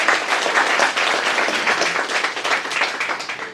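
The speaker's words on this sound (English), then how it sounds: "we can give a round of applause to that." Audience applause at a book launch, a steady wash of many hands clapping together at moderate loudness for a few seconds, with no talking over it.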